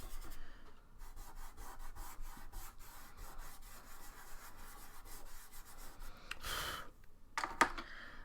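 A drawing tool rubs and scratches across paper in quick, uneven strokes, close and fairly quiet, with a louder rasping burst near the end.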